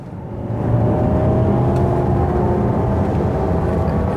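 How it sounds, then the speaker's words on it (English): Steady synthetic engine drone from a 2022 Jaguar I-Pace electric car, like a deep V8 rumble, with road and wind noise at cruising speed in heavy traffic; continuous and fairly loud. "You can definitely hear the artificial sounds. It sounds a little bit maybe like a V8 or maybe even V12."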